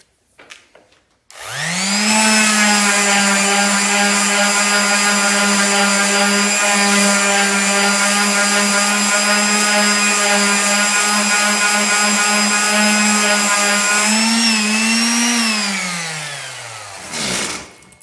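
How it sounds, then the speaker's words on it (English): A power sander spins up on a dried epoxy-coated wooden cribbage board, a loud, steady high whine with rich overtones holding for about twelve seconds before winding down, with a short bump at the end. "So now we're going to sand it down."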